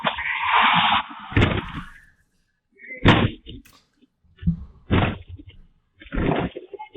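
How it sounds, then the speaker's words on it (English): Several heavy, loud impacts strike in an irregular series, like blows against a front door, with short silences between them. "He's breaking through the door."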